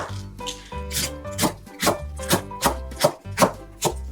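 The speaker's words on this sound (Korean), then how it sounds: "양배추는 먹기 좋은 크기로 썰어줍니다" A knife cuts cabbage into bite-size pieces for water kimchi on a wooden cutting board, a close, steady rhythm of crisp chops about two to three per second.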